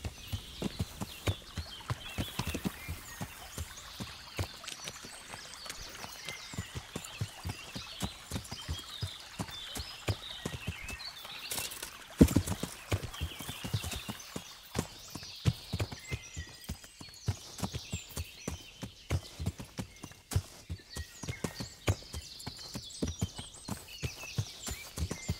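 Horse hooves clip-clop in a steady walking rhythm while a horse is ridden in the medieval video game Kingdom Come: Deliverance, close and continuous over faint outdoor ambience.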